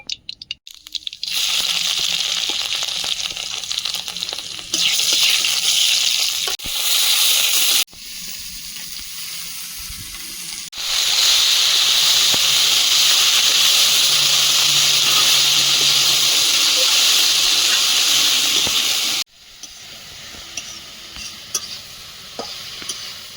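Kalmi greens cooking in a pan with red prawns and slit green chillies give a loud, steady frying sizzle that runs in long hissing stretches broken by brief quieter gaps, with stirring and no talking.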